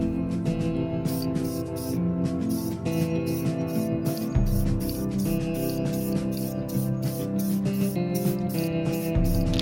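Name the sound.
spray painting car wheel barrels with spray paint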